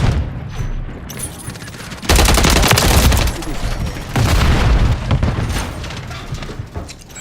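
Dense gunfire and booming blasts in Call of Duty, including a grenade explosion, come in heavy loud bursts of rapid shots with voices talking between them.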